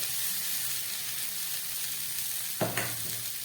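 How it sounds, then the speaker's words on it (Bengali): Boiled chana dal stirred and fried in a hot pan, a steady low sizzle with a sharp scrape of a spatula near the end, close and moderately quiet with no voices. "সেই ডাল সিদ্ধটা দিয়ে দিলাম। সব কিছু আমার দেয়া হয়ে গেল। ভালো করে কষিয়ে নিই।"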